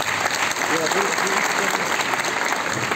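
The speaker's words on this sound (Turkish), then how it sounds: "Ben bu güzel organizasyonu yapan, önce olan, önder olan sevgili belediye başkanımızdan kuvvetli alkış istiyorum." Loud, sustained applause from a crowd at a local singing competition in Erbaa, a continuous dense clatter of clapping that fills the whole stretch with no gaps.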